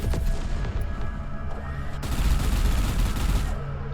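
Weapons firing in the space combat game Everspace 2, a dense, continuous stream of loud blasts and booms with rapid repeated shots, louder in the second half, with no talk over it.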